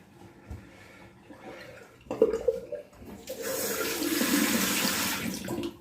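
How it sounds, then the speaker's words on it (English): Cold water runs from a bathroom tap, starting with a few splashes and clunks before settling into a steady, fairly close rushing stream. "a bit of cold running water"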